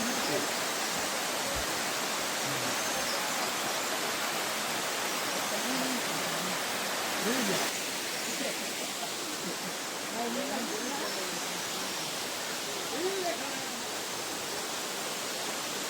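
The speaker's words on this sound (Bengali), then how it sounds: "ফাইনালি এলিফ্যান্টা ফলসে অ্যাটলিস্ট আমরা জলটা পেলাম।" Elephant Falls in Shillong, Meghalaya, gives off a constant broad rush of falling water that fills the whole stretch evenly, with no pauses or changes in level.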